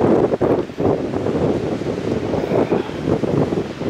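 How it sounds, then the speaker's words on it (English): Strong wind buffeting the microphone at a ski lift summit in Whitefish, a loud, continuous roaring rumble with gusty surges and brief dips, no voices. "Windy."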